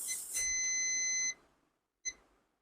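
On a mobile phone circuit board under repair, a multimeter's continuity tester sounds a sustained beep of about a second, then a brief chirp follows after a short pause, with no voices.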